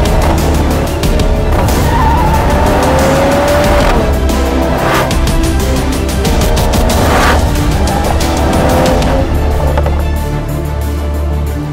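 A loud engine revs hard while tires squeal in long, wavering screeches, continuous and close, like a Mercedes E-Class Coupe in drift mode sliding sideways through corners.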